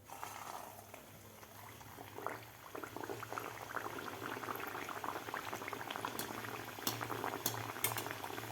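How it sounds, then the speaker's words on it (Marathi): Sweet semolina puris (rava sanjori) fry in hot oil over medium heat, a close, continuous bubbling sizzle dotted with sharp crackles and pops. "मीडियम हीटवरच आपल्याला हे सांजुरी तळायचे आहे."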